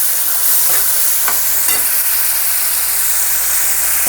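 Desi chickpea curry with coriander-cumin powder and a splash of water sizzles loudly in a pan on a low gas flame, a dense constant hiss with a few brief stirring scrapes, close and uninterrupted.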